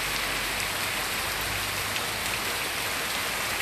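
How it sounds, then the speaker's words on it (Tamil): Heavy rain pours down in a steady, dense roar of drops hitting surfaces, close and loud throughout, in Dindigul during a sudden downpour. No thunder cracks or voices stand out. "இன்று திடீரென இடி மின்னலுடன் கனமழை பெய்தது"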